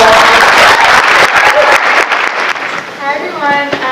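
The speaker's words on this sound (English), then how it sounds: "So a little round of applause." A high school audience breaks into loud, dense applause that thins out after a few seconds, with voices rising over the tail.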